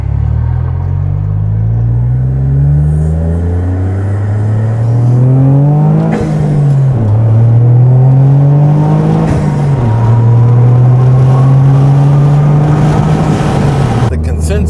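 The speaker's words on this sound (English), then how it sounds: "you can hear the turbo wind down and spin up a lot more." A Toyota GR Corolla engine fitted with an SXTH Element turbo inlet pipe revs up and down repeatedly, loud and close, its pitch climbing and falling in several sweeps with turbo whine.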